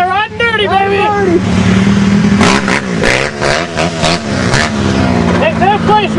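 A Rhino ATV rides down a big steep hill at Somerset, its mid-pitched engine revving and droning close by with rattling clatter, while people talk and shout over it.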